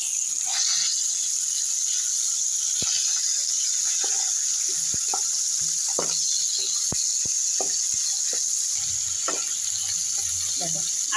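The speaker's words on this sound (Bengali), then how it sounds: "আমি আলু ভাজার সাইডে মাছটা দিয়ে মাছের মাথাটা দিয়ে ভাজা করে" A katla fish head and potatoes fry in oil with a constant close sizzle, punctuated by many sharp ticks and spatters and a few clinks of a utensil.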